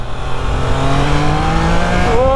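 A 2023 Triumph Trident 660 naked middleweight motorcycle engine revs up loud and close, its rising pitch climbing steadily for a couple of seconds with no talk over it.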